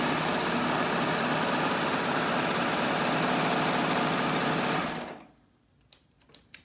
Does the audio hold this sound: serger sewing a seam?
yes